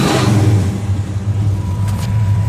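A 1969 Dodge Charger engine idles on its own with a steady, loud, close low rumble that holds evenly from start to finish.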